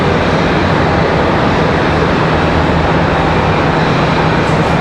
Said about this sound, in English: that Piedmont A321 making its way over to our side.